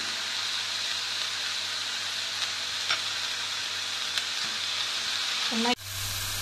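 Colourful vegetables with ginger garlic paste frying in a pan for a chapathi egg roll, a constant loud hiss and sizzle with a few faint stirring taps, ending in a sudden sharp change as the sizzle abruptly drops.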